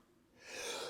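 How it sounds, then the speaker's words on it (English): A person's sneeze begins as a quiet sharp inhale and swells into a breathy, forceful burst, close and solitary. "I'm gonna sneeze."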